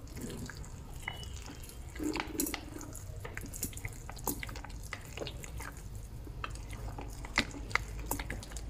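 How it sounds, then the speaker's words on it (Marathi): Water poured from a small bowl into rava dhokla batter, a soft continuous trickle and splash with faint stirring clicks, steady and close, no voices. "आता थोडंसं पाणी घालायचं,"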